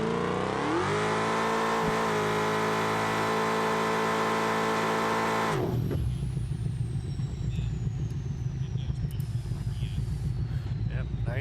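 A drag car in BeamNG runs on nitrous boost. Its engine winds up to a loud, steady high-pitched scream, then abruptly drops into a rough, gritty roar that keeps charging onward.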